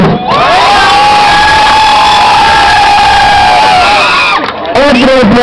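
A loud audience roars and cheers for children at a zapateado dance event in Coyotes, Aguascalientes, with high whooping shouts sustained throughout and a short lull before a fresh burst.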